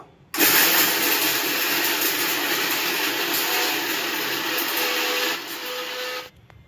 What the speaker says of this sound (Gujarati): અને મિક્સરમાં ગ્રાઇન્ડ કરી દઈએ અને આનો મસાલો સરસ બની જશે